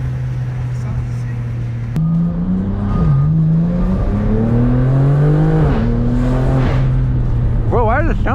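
Engine of an 800HP BMW G80 M3 revving and accelerating hard on the road, its loud rising drone climbing through the gears with a sharp shift, heard from inside the car.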